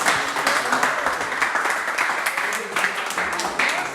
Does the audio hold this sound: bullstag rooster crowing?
no